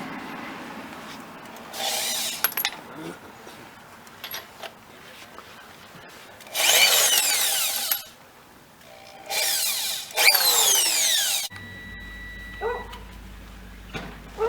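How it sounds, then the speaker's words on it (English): An ordinary power drill whirs in several sustained bursts while removing lug nuts from a Toyota Highlander wheel, close and loud, with pauses and clicks of handling between runs. "We are going to use this ordinary drill"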